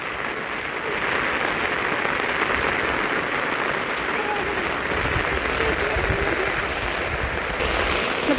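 Steady rain pours down outdoors in Nepal, a dense continuous hiss of drops on surfaces that stays even and fairly loud throughout with no pauses.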